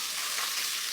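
Prawns frying with onion in a pan make a continuous, close, bright sizzle that holds steady throughout, with no voices.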